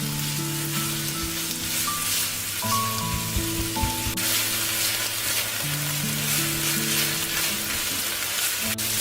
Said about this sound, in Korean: 다진 소고기, 소금 2꼬지, 후춧가루 약간 이렇게 넣고 다진 고기가 익을 때까지 잘 볶아주세요.